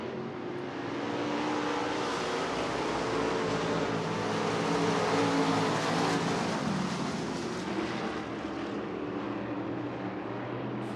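IMCA race cars charge down the back straightaway at Cocopah Speedway during the Winter Nationals, a broad, steady engine roar that swells slightly mid-pass and holds loud and continuous throughout with no talk.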